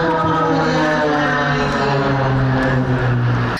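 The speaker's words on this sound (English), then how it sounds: "The F-5 fighter impressed many with their loud noise and high speed." An F-5 fighter jet flies at an airshow at Uhuru Gardens in Nairobi, a loud sustained engine whine and roar with steady tonal layers, heard continuously throughout.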